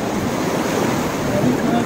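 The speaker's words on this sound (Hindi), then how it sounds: "आवाज कितनी तेज आ रही है पानी की" Loud, steady rushing of a mountain river in cold, foggy conditions, a continuous broadband roar that holds constant throughout without breaks.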